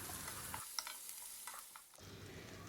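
Chopped onions sautéing in hot oil with fennel seeds and curry leaves for a Tamil Nadu style egg gravy, a steady soft sizzle with a few stirring scrapes and a brief quieter dip in the middle.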